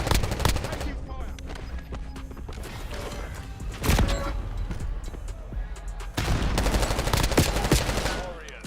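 Video game gunfire rattles in bursts of rapid shots with mechanical clatter, steady and fairly close throughout, swelling louder near the end.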